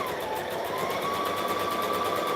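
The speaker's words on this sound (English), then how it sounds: "So I'm sewing the collar band to the top half of the dress." A sewing machine runs continuously and rapidly while stitching a collar band onto a dress, a close, even mechanical whir with fine rhythmic ticking.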